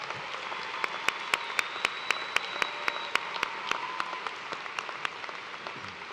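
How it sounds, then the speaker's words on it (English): A large audience at a University of Toledo spring commencement ceremony keeps up a steady wash of applause, with a few loud, distinct claps standing out sharply near the microphone. "Let's give a round of applause for everyone who helped make this celebration an occasion to remember."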